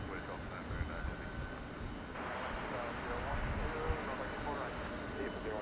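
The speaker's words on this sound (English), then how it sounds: "there goes the flight over to Kahului." An airliner departing LAX for Kahului produces a faint, distant, steady jet rumble that thickens slightly partway through and holds to the end.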